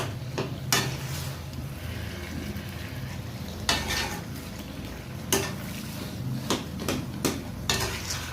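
A spoon stirs thick makhandi halwa in a pot, giving a continuous low bubbling sizzle with several sharp metallic scrapes and knocks against the pot's sides at irregular intervals.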